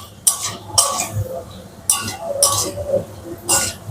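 Spices stirred and scraped with a wooden spoon in a pan for banana stem curry, several sharp knocking scrapes in uneven bursts, close and fairly loud, with brief talk between strokes.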